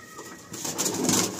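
Madrasi pigeons coo in a soft, throaty, rolling run that swells in the second half, close and clear with no talking.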